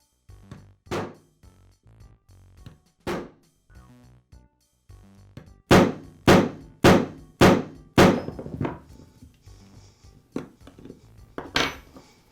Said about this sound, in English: I'm going to use a fairly sharp chisel and just break through the plastic on